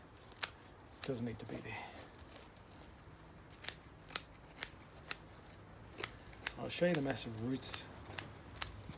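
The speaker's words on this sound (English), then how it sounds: "I'm going through it with my scissors because I know I can get through it" Sharp snips of scissors cutting trident maple bonsai roots repeatedly, crisp clicks spaced irregularly, with a person talking in between.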